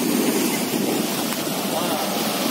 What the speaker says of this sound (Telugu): రోడ్డు మీద నుంచి వెళ్ళిపోతుంది వాటర్ పొలాల్లోంచి